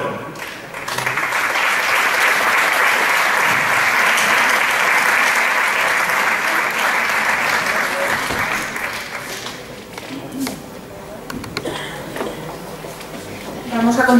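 Audience applause, likely clapping along, fills a stage performance of the Jota de San Lorenzo, an Aragonese jota dance show in Burriana. The clapping is loud and steady from about one second, easing somewhat toward the end.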